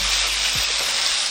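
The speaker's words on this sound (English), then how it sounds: "The key to this dish is to get the rice caramelizing, nice and toasty." Fried rice for nasi goreng frying in a wide, high-sided pan, giving a steady, dense, close sizzle throughout with no talk.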